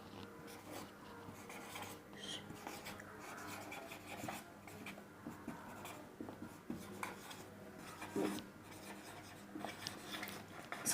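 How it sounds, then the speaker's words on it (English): Marker or chalk writing a sentence on a classroom board, with steady rubbing and scratching strokes in short bursts, fairly close and moderately quiet, with no talking. "write a sentence for you."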